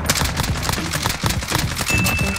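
Rapid bursts of gunfire from a shooter video game, a dense, loud string of close shots crackling in quick succession with no talk.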